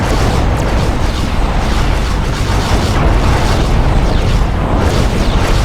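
Explosions boom loudly and without pause during space combat in the Star Trek Klingon Academy game, forming a dense, roaring wall of blasts and rumble.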